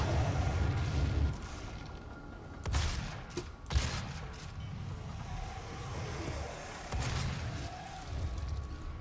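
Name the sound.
gunfire and enemy shots in DOOM video game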